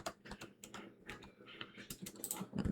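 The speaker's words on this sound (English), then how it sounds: "So you're gonna type in .NET framework" Rapid, light tapping of a computer keyboard, quick irregular keystrokes heard close and fairly quiet, with no one speaking.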